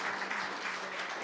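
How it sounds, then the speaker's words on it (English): An audience at a security conference stage claps for a few seconds, a dense even wash of applause from a moderately sized crowd with no voices over it. "Another round of applause."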